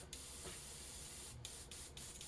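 An airbrush sprays paint without a carrier onto a Baby Bass crankbait lure being given a custom crackle finish, a steady close hiss broken by short pauses as the trigger is released.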